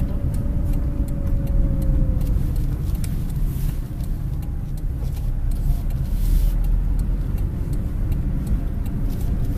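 Steady engine rumble and road noise of a car being driven, heard from inside the cabin, continuous and fairly loud throughout.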